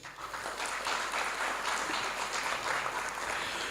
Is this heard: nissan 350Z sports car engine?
no